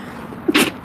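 A single sharp sneeze bursts out close up, followed by a short breathy sound.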